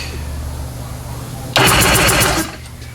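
Lucore PJS VHP7000 jet ski engine cranking over, a loud rapid whirring chug that starts abruptly after a steady hum and runs for about a second before easing off.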